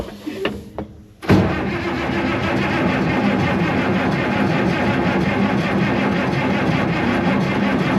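A parked International Harvester 1468 tractor engine, idle for over ten years, cranks over loudly and steadily after a brief pause, with a continuous churning starter drone up close that does not catch.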